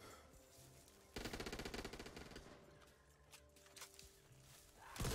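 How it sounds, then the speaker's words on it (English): Rapid machine-gun bursts from a Back 4 Blood game, a dense rattling volley of evenly spaced shots that starts loud and tapers off, with scattered gunfire and game noise around it. "Machine gun."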